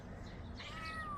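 A cat meows once, a short rising-then-falling cry close by along a pilgrimage trail on the Camino Francés, over a soft background hum with no voices.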